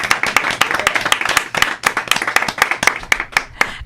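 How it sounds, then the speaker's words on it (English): A studio audience on a radio show claps in a loose, uneven burst of distinct handclaps. The claps are close and crisp and sound from only a small group. "Let's give Vanessa Davis a round of applause"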